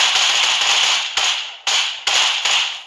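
Groza rifle shots striking a car in a video game, a rapid string of sharp, crackling bursts with brief gaps between volleys, loud and close.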